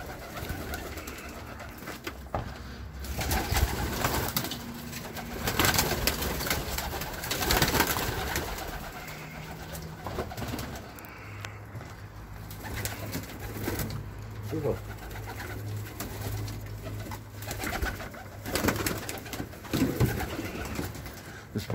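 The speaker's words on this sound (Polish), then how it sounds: "Gołębie nie chcą iść." Domestic racing pigeons coo in low soft bursts around a loft in Elbląg, Poland, mixed with wing flutters and handling noise while someone talks nearby.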